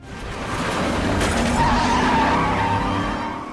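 A police car speeding in a chase, its tires skidding and squealing loudly for a few seconds as the engine roars close by.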